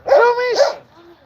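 A dog gives one loud, close bark-like yelp with a short whine after it, heard alone.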